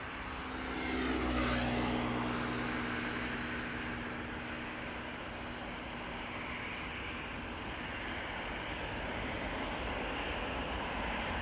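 Airliner departing Amsterdam Schiphol Airport: a loud jet engine roar swells over the first few seconds, then settles into a steady broadband rumble as the plane climbs away, with no voices.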